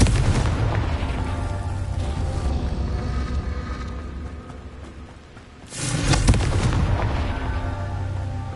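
Explosions from the Confringo blasting spell in Hogwarts Legacy on PS5, loud rumbling booms that fill the scene, fading briefly before a fresh burst crashes in and rolls on.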